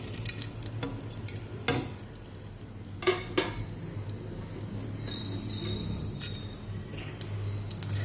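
Curry leaves and coriander sizzle in hot oil in a kadai, a steady close frying hiss broken by several sharp metallic scrapes and knocks of a spoon stirring against the pan.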